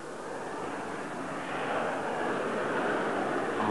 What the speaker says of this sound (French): Vol stationnaire, l'avion est très aisé à manœuvrer et évolue aussi facilement qu'un hélicoptère